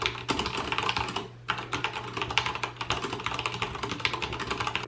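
Rapid, continuous clicking of mechanical keyboard keys being typed on, with a brief pause early on, close and moderately loud.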